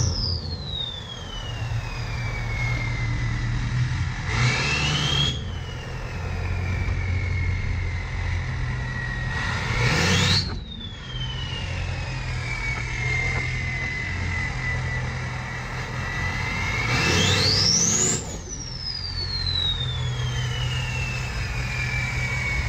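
An Oldsmobile Alero's engine idles with a steady hum while three sharp rising-and-falling tonal sweeps come and go as the car is pulled out, close and fairly loud.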